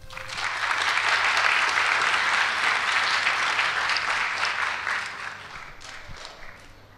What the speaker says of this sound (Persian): لطفا این عزیزان رو تشویق کنید.